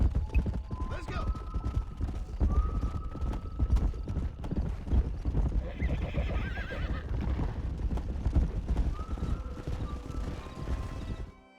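Horses in the Red Dead Redemption video game clip-clop steadily at a trot or gallop and give several whinnies and neighs, close and loud throughout, with faint voices in the background.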